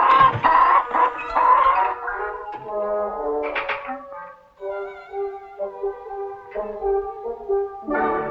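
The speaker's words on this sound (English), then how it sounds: "Buck, do you know anything about hens" Hens cluck and warble in a series of nasal, pitched calls, close and fairly loud, with short gaps between bursts in a western ranch setting.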